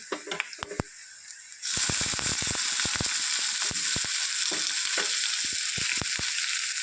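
Cumin and mustard seeds, chopped garlic and onions are sautéed in hot oil, breaking into a sudden loud, steady sizzle after a few quieter clicks, with frequent sharp taps of a spoon stirring against the pan.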